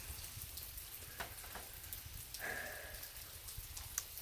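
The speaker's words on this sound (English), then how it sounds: "the rain is not letting up" Steady rain falls on a wet, windy day while backpacking in Big South Fork, Tennessee, a dense, even patter of drops across surfaces around the listener with a few louder taps.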